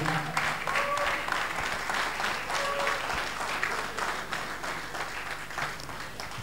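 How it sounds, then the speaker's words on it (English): Audience applause at a university convocation lecture, sustained rhythmic clapping from a crowd in a hall, fairly loud and steady, fading slightly toward the end. "Maybe I should say that that applause is for me."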